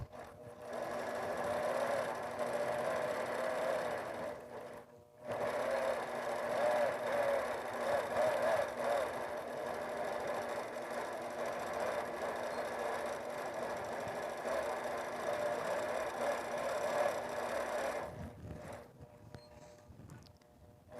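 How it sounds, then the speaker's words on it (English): A longarm quilting machine stitches with a steady, fast mechanical hum and rapid needle chatter, running close and continuous, pausing briefly once before stopping near the end. "We have this quilting machine"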